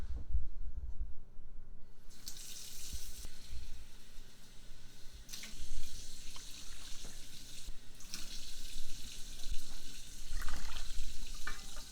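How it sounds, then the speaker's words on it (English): A steady stream of warm water pours and splashes into a bowl holding yeast for several seconds, with the flow shifting in intensity and some light handling noise. "I'm going to add 1 cup of warm water."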